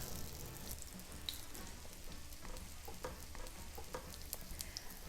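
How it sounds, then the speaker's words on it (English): Hotteok, Korean sweet pancakes, pan frying in a large pan give off a soft, continuous crackling sizzle with scattered light pops, fairly quiet and steady throughout. "It doesn't have to be like deep fry, but pan fry like this."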